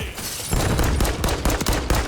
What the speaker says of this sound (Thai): จากไหนยิงมา